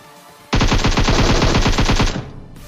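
Automatic gunfire in the PUBG Mobile battle royale game knocks down an enemy player: a single rapid burst of about fifteen close, loud shots lasting roughly a second and a half, set against quiet background.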